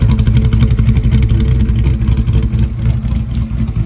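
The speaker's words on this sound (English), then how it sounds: "the car fired right up, and we are about to go get a data log in for John." An EFI Foxbody Mustang on drag radials runs loud and close, its engine rumbling steadily with a choppy, pulsing idle and light revving throughout.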